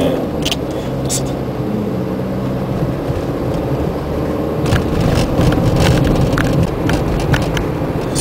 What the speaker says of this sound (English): So we're now driving into the city.